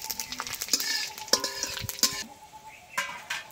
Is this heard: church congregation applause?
no